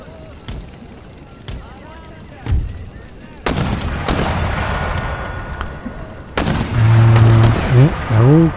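Gunfire and artillery booms from Empire Total War (Darthmod) siege battle, sharp reports scattered throughout with heavier blasts later, under ongoing commentary talk.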